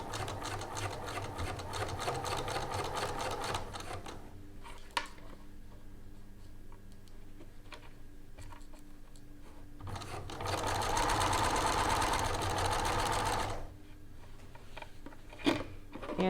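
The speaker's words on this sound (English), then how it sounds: "I'm going to stitch close to the folded edge." A sewing machine runs in two steady buzzing bursts, close and mechanical, stitching a lapped zipper near a folded edge, separated by a quieter pause with light handling clicks.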